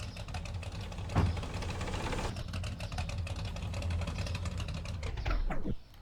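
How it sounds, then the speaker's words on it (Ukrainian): A car engine runs roughly with a dense, uneven ticking and knocking over a steady rumble. It holds close and fairly loud before cutting off abruptly near the end. "Двигун у нього працює так собі."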